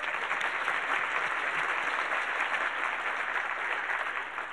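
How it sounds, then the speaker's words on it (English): Over 300 attendees at a Retail Connect 2018 evening event break into sustained, dense applause that holds steady throughout and tapers slightly at the end. "I think that deserves a round of applause."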